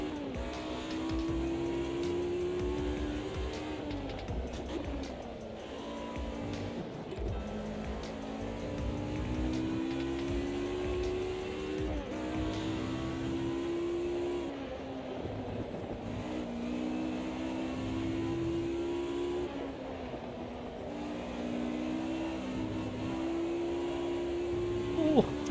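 Race car engine in the racing sim AMS2, revving up and down in repeated throttle sweeps as the driver feathers the pedal, steady and prominent throughout with a voice talking over it.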